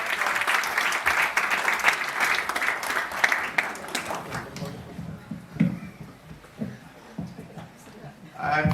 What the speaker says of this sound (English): Can we have a round of applause for the young ones?